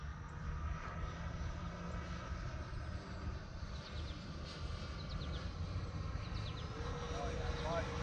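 Freewing F-15 radio-controlled jet with its gear down, flying in to land: a steady, moderately distant electric ducted-fan roar that runs throughout at an even level, with faint outdoor background noise.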